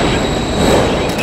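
A train in the video game Call of Duty MW3 rumbles with steady, loud rail noise and wheel rattle, filling the short moment continuously without any voices.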